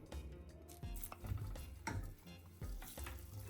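Butter melting into golden caramelized sugar in a pan as it is stirred, soft sizzling with repeated scraping strokes of a spoon, close and fairly quiet.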